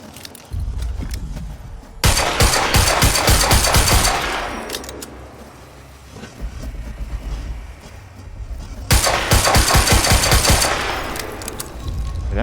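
Automatic gunfire in the video game Quantum Break, two long, dense bursts of rapid shots with a lull between them, loud and close with rattling echoes.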